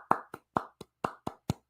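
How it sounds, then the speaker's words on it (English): A few sparse, polite golf claps sound close by as a short run of eight separate hand claps with no talking. "Golf clap. Golf clap for Ali."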